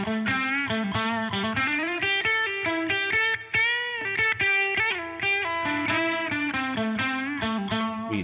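Electric guitar through an OPFXS Twin Boost clean boost pedal, slightly driven tone, a busy run of picked notes and chords at steady loudness with no talking.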